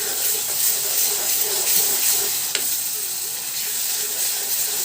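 Ginger-garlic paste frying with onions in a pan for a curd paneer curry gives off a steady, close hiss and sizzle that never lets up, with one faint click partway through.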